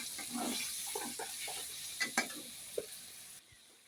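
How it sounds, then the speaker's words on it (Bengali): Chicken coated in chilli powder is stirred in a pan, with a low sizzle under a few sharp scrapes and taps of the spoon against the pan, ending in a brief quieter moment. "এখন ভালো করে নেড়ে নেব"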